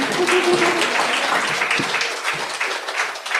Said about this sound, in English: How about we give them one more round of applause?